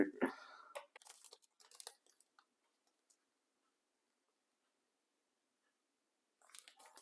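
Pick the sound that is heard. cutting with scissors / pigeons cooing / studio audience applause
cutting with scissors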